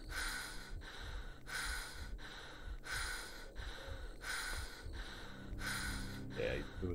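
Rhythmic heavy breathing from a character in the roguelike Cataclysm: Dark Days Ahead, repeating in steady rasping bursts about every 0.7 seconds, loud and close, with no voices over it.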